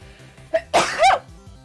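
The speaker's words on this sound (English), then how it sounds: "I sneezed" A single sharp sneeze, close and loud, preceded by a quick intake of breath, then quiet.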